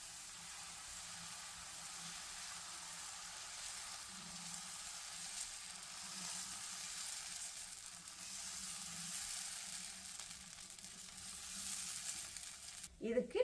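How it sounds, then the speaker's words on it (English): Dosa batter spread in a hot pan gives off a soft, even hiss that holds steady and faint throughout, closing with a brief clatter of utensils at the very end; no one speaks. "So we waited for the pan to heat up, and then we've now put the dosa batter in."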